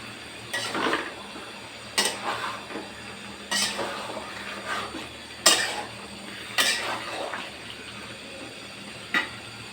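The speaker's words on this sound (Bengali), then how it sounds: "ঢাকনাটা উঠিয়ে আমি একটু নেড়ে দিচ্ছি।" Beef liver being stirred in a cooking pot after the lid is lifted: a series of sharp metal clinks and scrapes from a spoon against the pot, spaced irregularly, with a low steady hum underneath.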